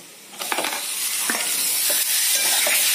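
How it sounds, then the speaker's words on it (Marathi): Small washed shrimp (jawla) sizzle in a hot pan with turmeric, a steady crackling hiss broken by a few clinking stirs of a spoon against the pan, close and fairly loud with no talking. "हा परतवून घ्यायचा चांगला"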